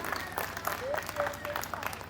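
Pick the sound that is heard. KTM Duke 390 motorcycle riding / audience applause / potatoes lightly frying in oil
audience applause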